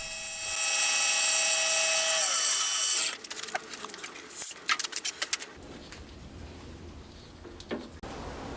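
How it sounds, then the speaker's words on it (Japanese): A whetstone in a homemade polishing tool grinds the crankshaft journal of a handbuilt 125cc four-cylinder, 16-valve engine. A loud, steady machine whine with a high ringing tone runs for about three seconds, then gives way to quieter intermittent scraping and ticking. "砥石に付け替えたらさらに砥石が当たるとこまで進めてまた一皮剥いていきます。"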